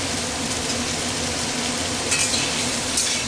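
Chopped bottle gourd fries in a pan with spices, giving a loud, steady, dense sizzle with a couple of brief stirring scrapes near the end.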